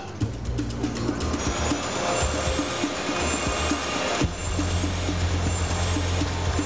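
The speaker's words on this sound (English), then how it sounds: "McAdle compares the sound of his test flight to the engine noise captured during Flight 90's takeoff." Aircraft engines run steadily during a test flight with blocked sensors, a continuous broadband roar with a faint high whine, moderately loud and unbroken.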